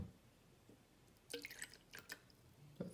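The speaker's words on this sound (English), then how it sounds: "So here we have the glass. I'm about to pour it in." Amaretto almond liqueur poured into a glass, a faint run of soft splashes and drips with a few sharper bursts in quiet surroundings.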